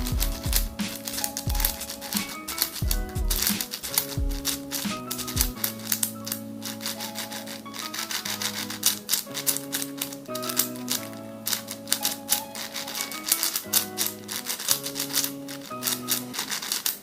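A YJ budget magnetic speedcube is turned quickly, producing dense, rapid plastic clicks and clacks close up over background music.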